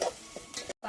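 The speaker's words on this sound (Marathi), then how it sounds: "फोडणी झाली, फोडणीच्या नंतर मसाला थोडी फ्राय करते" Ground masala fries in oil over a wood-fired stove, a close sizzle with spoon stirs and scrapes, broken by a brief silent gap before resuming.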